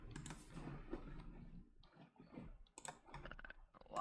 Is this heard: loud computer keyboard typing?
yes